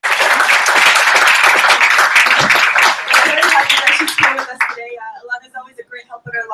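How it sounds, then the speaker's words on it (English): A room at a book launch bursts into applause for a poet and poetry editor, loud dense clapping for about four and a half seconds that then thins out into a voice speaking. "Give her a round of applause"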